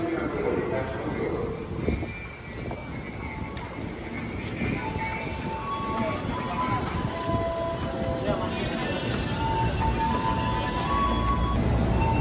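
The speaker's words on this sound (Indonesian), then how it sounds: "Ini dia kereta api komuter lain Walahar." A Walahar commuter train pulls into the platform, a low rumbling roll with faint squeals and clanks, heard from nearby amid a crowd of people talking.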